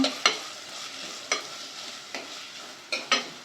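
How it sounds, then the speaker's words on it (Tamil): Chopped onions sauté in a pan for crab curry, with a steady broadband sizzle punctuated by several sharp scraping stir strokes of a spatula, close and moderately loud, with no talking. "ரெண்டு வெங்காயம் கட் பண்ணி வச்சுருக்கேன் அதை வந்து போட்டுடலாம் வெங்காயம் நல்லா வதக்கிடலாம்"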